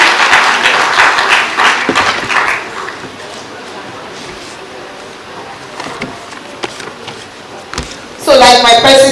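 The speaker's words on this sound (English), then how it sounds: "Can you please applaud her, the rector of Oko Poly, and the first female rector?" Audience applause for the first female rector of Oko Poly at an engineering town and gown event, loud clapping fading to scattered claps, then a sudden loud burst near the end.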